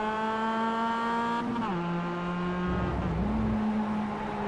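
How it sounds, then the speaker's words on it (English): Mazda MX-5 race car in a sim racing game at Laguna Seca, its engine note loud and steady, then dropping in pitch as the car slides, with tire scrub and a brief dip before the engine recovers. "Oh, big slide there by Riley Thompson"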